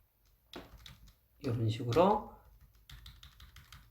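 Computer keyboard keys, Shift and arrow keys, are pressed while resizing table cells in a Korean word processor, giving a few light scattered clicks beneath someone speaking.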